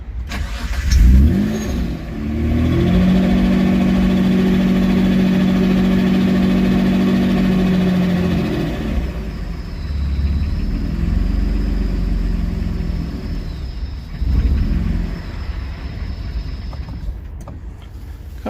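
An old GR engine run by a standalone ECU cranks and fires, then settles into a loud, steady idle with a droning tone before the revs shift and waver, close and with no voices.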